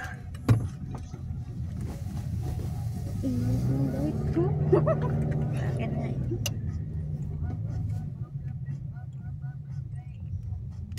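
A car pulling out of a parking area, its engine droning steadily with a brief rise in the middle while people talk inside.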